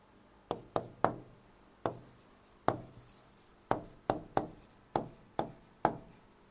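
Chalk or marker strokes on a classroom board during an English grammar lesson, a dozen sharp taps and short scrapes in an irregular rhythm, close and distinct with no talking.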